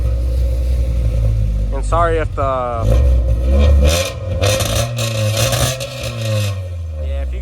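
Honda EG hatchback with a newly fitted exhaust revs up and drops back a couple of times, the engine note rising and falling nearby, mixed with people talking close to the mic.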